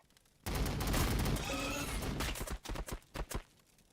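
Gunfire in the strategy game Warhammer Battlesector, a sustained roaring volley of shots followed by several distinct bursts that taper off.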